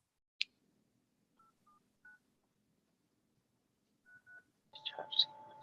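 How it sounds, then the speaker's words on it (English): Telephone keypad dialing tones: a handful of short, faint beeps spaced irregularly across a quiet room, followed by a brief electronic tone and crackle as the line connects. "let me try to dial this in"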